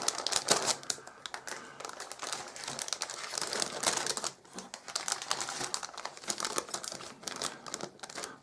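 Heat-sealed plastic bags holding sprues for a Meng 1/35 French FT17 light tank model kit being handled, giving continuous close crinkling and crackling with quick irregular rustles and no talking.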